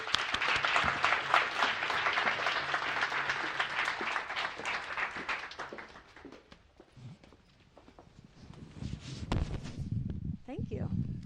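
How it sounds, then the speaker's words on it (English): Audience applause at a World Food Day celebration event, a dense burst of clapping for the first several seconds that fades out, followed by some shuffling and light background noise. "Round of applause, please."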